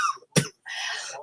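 A single sharp cough from a speaker at a panel session, close and loud, set between stretches of the speaker's own talk.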